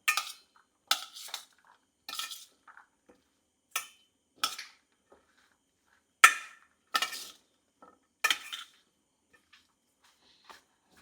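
Chicken salad with lemon juice being mixed in a bowl, with a spoon clinking and tapping against the dish in irregular bursts, fairly close and quiet, no talk.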